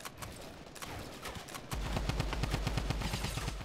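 Gunfire in a mobile video game, rapid bursts of automatic shots that grow louder and denser partway through, continuous and close.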